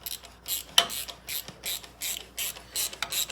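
A ratchet tightens the sway bar link bolt on a 2013 Chevy Silverado, about a dozen quick, regular clicking strokes close by with no talk.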